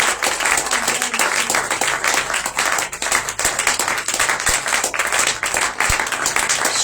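A church congregation at a Shavuot 2025 service bursts into loud, continuous applause, dense clapping close and steady throughout with no pause.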